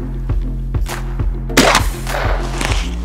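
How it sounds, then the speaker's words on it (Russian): A single heavy blast from a Vepr smoothbore shotgun firing a slug booms out, loud and close, over a rhythmic low thumping machine-like background. "Так, выстрел."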